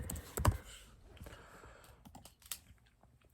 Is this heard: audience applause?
no